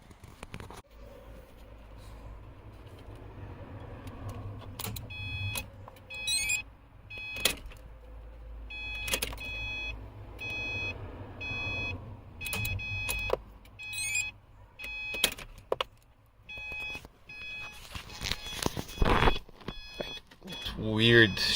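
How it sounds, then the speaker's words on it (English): A 2012 Subaru Forester that won't start makes repeated electronic chimes from under the dashboard. The tones come in short clusters among clicks and cabin rustling, and a person talks at times. "But there is this weird chiming under the dash."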